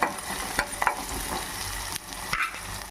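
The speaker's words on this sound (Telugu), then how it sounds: "ఉల్లిపాయ ముక్కలు కొంచెం వేగాలి" Onion pieces frying in a pan with curry leaves for a taro-leaf (thottu kora) fry, a steady close sizzle with a few sharp stirring scrapes and clicks, no talk.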